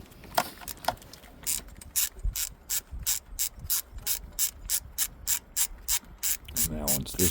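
A ratchet wrench backs out a 10 mm bolt on the alternator bracket of a 2013 Toyota RAV4 2.5, giving a long run of steady, evenly spaced close clicks with a few scrapes at the start and a brief rattle at the end.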